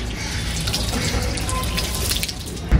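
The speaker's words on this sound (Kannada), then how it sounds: "ಎಣ್ಣೆ ಸ್ನಾನ" Water pours and splashes close by during an oil bath, a continuous watery gush with dripping, fairly loud and without speech.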